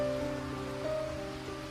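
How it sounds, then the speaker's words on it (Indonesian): Heavy rain pours down steadily, a dense continuous wash of drops that stays at an even moderate level under a sustained musical tone in the background. "Dan tiba-tiba saja hujan turun amat deras."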